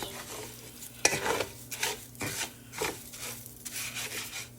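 Food tossed in hot oil in a pan on a stovetop gives soft sizzling and repeated scraping strokes of a utensil, a sharp clink near the start, fairly quiet and close.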